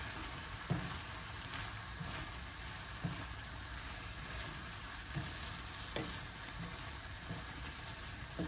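Prawns stirred with cashew powder in a hot frying pan give a steady, fairly soft sizzle, with light scraping stirs landing roughly once a second and no talking.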